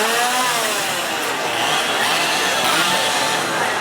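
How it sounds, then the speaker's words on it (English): A chainsaw swung by a scare actor at Halloween Horror Nights roars continuously, loud and close, its engine holding a steady buzzing rev with slight rises and dips. "You can't go wrong with chainsaw actors."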